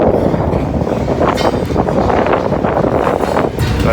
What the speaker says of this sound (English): I didn't know it was going to be so windy.